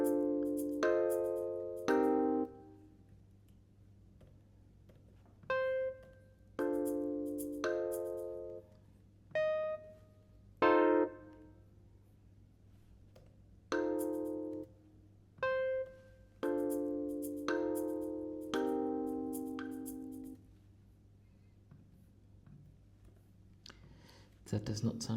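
A jazzy progression of seventh chords plays back in Sibelius notation software as short, separate blocks of chords with quiet gaps between them and faint clicking in the background.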